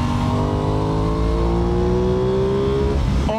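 An Aprilia Tuono 660 Factory sport motorcycle engine revs up steadily, loud, its pitch climbing over a few seconds before dropping off abruptly near the end.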